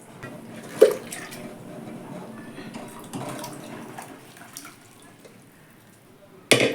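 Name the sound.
water poured into sambar pot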